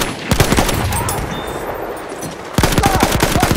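Rapid bursts of automatic gunfire in Battlefield 1 on the Monte Grappa conquest map, loud and close, with a brief lull before another fast volley rattles out.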